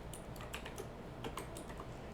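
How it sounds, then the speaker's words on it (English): Light computer keyboard typing while using a Control D duplicate shortcut in a scene-building program: a handful of soft, quick key clicks in a quiet room, faint and close, with no talk. "So I'm just doing Control D to duplicate. It's just a very common keyboard shortcut"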